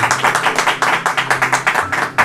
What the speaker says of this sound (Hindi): जोरदार तालियां जी